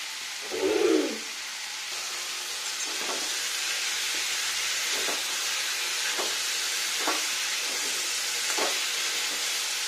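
Cauliflower frying in a pan on high heat for an Indian vegetarian lunch: a soft, steady sizzle with a few faint stirring scrapes spaced every second or so, and no talk.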